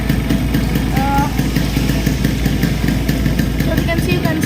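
A motorcycle engine with stuck piston rings idles close by, spitting oil from the breather onto the intake manifold; a steady, loud mid-pitched rumble runs throughout with a faint voice underneath.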